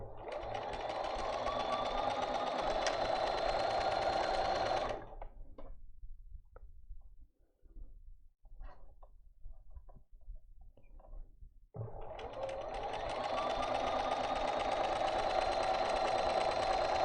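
A sewing machine stitches a seam in two steady runs of dense mechanical whirring, stopping for several seconds of quiet handling noise in between before starting again at full speed.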